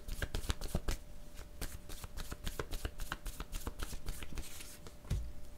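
Playing cards shuffled by hand, a rapid, continuous riffling flutter of crisp card snaps running steadily throughout, close and fairly quiet.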